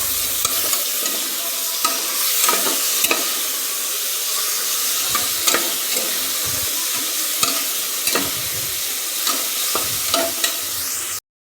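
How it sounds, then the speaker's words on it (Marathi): Spiced masala rice with potatoes being stirred in a pan, a spoon scraping and clacking in steady irregular strokes over a continuous sizzling fry, close and fairly loud, with no voices. "आता याला छान मिक्स करून घेते."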